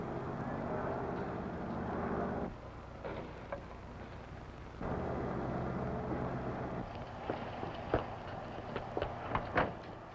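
A steady droning airplane engine hums at moderate level, dropping out and returning, with scattered knocks and clatter toward the end.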